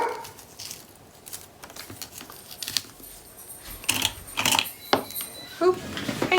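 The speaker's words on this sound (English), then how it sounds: "the dog goes bonkers" A pet dog barks excitedly in a house as someone arrives home, sharp yaps in uneven bursts, some loud and close, others muffled, over faint room noise and small handling clicks.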